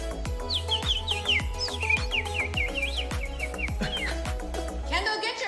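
A person imitates bird noises with a voice, producing a rapid series of high, sliding chirps and tweets over a steady rhythmic beat of background music.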